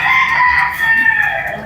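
A rooster crows loudly and close by, one long strained call with no voices over it.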